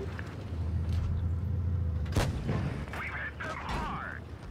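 A tank cannon shot from the 50TP in World of Tanks Blitz: one sharp loud crack over a steady engine rumble, followed by fainter metallic impact and clatter sounds, with someone talking.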